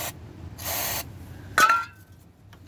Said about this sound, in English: Just get some more spray in there.